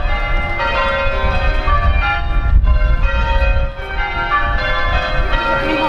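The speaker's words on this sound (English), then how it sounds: "He's absolutely fine just listening to the bells." Church bells ring continuously and fairly loudly, overlapping peals with a low outdoor rumble underneath and no talking.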